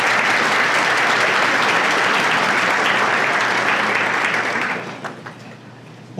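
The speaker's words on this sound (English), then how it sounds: "Give yourself a round of applause for all of us." Sustained audience applause at a school district superintendent's breakfast event, dense and steady clapping from a large crowd that fades out toward the end.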